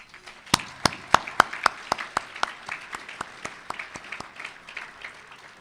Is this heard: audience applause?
yes